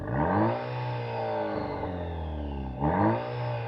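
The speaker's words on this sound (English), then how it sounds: "Does it have a good sounding exhaust? Let's take a listen to the outside." A Maserati Grecale Modena's four-cylinder exhaust revs up loudly, drops back to idle, then revs again, a deep throaty engine roar close by, heard from outside the car.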